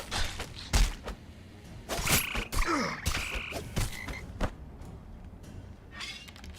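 Frogs croak in the online fantasy game Embers Adrift, several loud, close croaks interspersed with game combat thuds and impacts, no talk.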